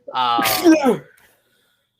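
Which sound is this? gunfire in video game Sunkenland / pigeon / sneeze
sneeze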